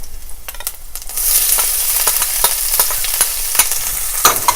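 Garlic and onions hit hot oil with cumin seeds and fry with a loud, steady hiss and crackle, close up, while a spoon scrapes and clicks in the pan at intervals.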